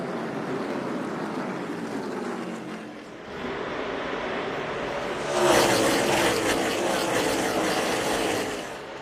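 NASCAR Cup Series stock cars in the Ally 400 roar four-wide into turn 1, a loud continuous engine drone that dips briefly, then swells sharply as the pack sweeps closer and stays loud.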